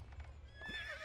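A horse whinnies partway through, over a steady low rumble and faint clip-clop of hooves, in the video game Assassin's Creed Brotherhood, during the siege of Monteriggioni.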